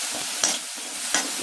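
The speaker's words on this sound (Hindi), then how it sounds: "थोड़ी देर के लिए मैं इसको भून लेती हूँ।" Potato tikki filling with salt is stirred and roasted in a pan over a gas stove, a steady soft sizzle broken by a few scraping strokes of the spoon, close and alone.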